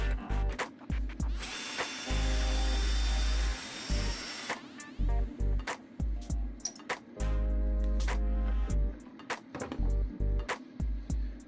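A 10 mm socket wrench loosens a screw on a turbo intake hose of a 1.6 THP engine. There are bursts of sharp metallic ratchet clicks, some long continuous whirring runs, and short clanks between them, all close up.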